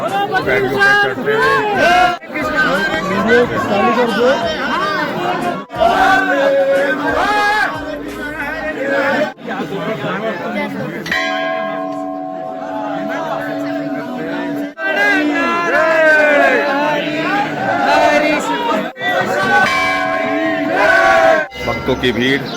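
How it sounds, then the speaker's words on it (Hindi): A dense crowd of devotees gathers at the Badrinath temple gate, a loud continuous babble of many voices with chanting and shouted calls rising and falling throughout, close and enveloping. "भक्तों की भीड़ बद्रीनाथ के द्वार के पास और अंदर जाते हुए भक्त लोग"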